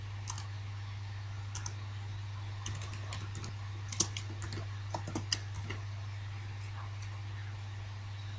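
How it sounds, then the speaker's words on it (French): Computer keyboard typing as text is entered into a mind-mapping program: scattered light key clicks in irregular bursts, close and fairly soft, over a steady low electrical hum, with no talking. "Je tape mon texte."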